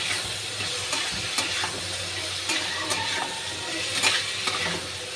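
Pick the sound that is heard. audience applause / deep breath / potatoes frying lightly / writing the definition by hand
potatoes frying lightly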